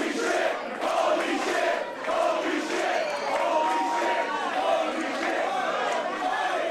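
A wrestling crowd cheers and shouts steadily in support of a wrestler during a tag team match, a dense roar of many voices filling the arena, with a commentator's voice running over it.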